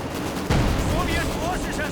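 Dense battlefield gunfire from Company of Heroes 2, including sniper and machine-gun fire, rattles under loud commentary, with a sharp shot landing about halfway through.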